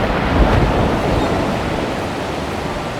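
Steady rushing surf of waves on a lake, mixed with gusting wind, a dense continuous roar at fairly loud level with no voices.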